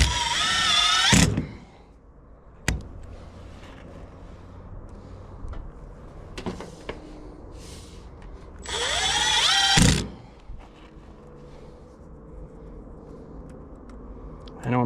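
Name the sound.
screw gun driving screws while hanging soffit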